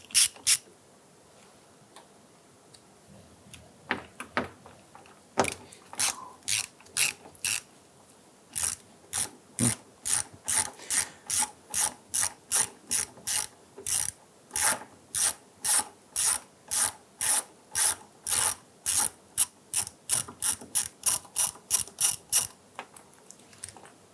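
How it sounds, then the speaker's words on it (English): A socket ratchet loosens 10mm nuts on a side mirror of a 1999-2004 Jeep Grand Cherokee, giving long runs of sharp, evenly spaced clicks, close and fairly loud, after a few quieter fumbling sounds. "We're going to take our socket, go inside here. I'm going to loosen the 2 bottom ones completely."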